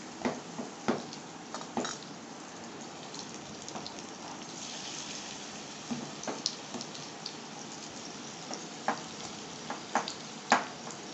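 Small jute leaf pakoras fry in hot oil with a steady, soft sizzle, broken by scattered pops and crackles that grow a little sharper near the end, with no one talking.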